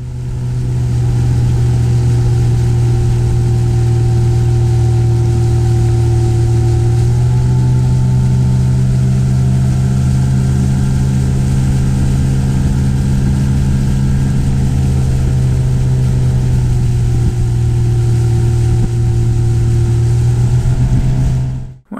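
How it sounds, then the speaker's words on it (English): A small Avon Redstart dinghy is driven by a 2-horsepower outboard motor out toward the open sea, and the motor drones loud and steady for the whole stretch with only slight shifts in pitch. "Unless you're in a little Avon Redstart, powered with a 2-horsepower outboard."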